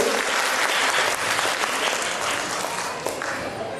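Audience at a 2012 UK inauguration event for a community gathering applauds steadily, a dense, loud wash of clapping that holds its level for the whole stretch without pause.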